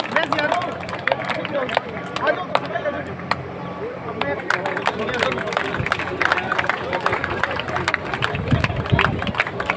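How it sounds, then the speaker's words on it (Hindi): A village crowd claps in welcome for a sarpanch representative at a foundation-stone ceremony, dense continuous applause mixed with crowd babble throughout. "श्री जयसिंह जी का तालियों से स्वागत"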